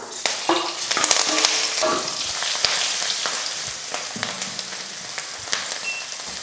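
Tempering ingredients hit hot oil in a kadai after the mustard seeds splutter, for tamarind rice. A loud sizzle with crackling pops and scraping stirs settles into a steadier frying hiss.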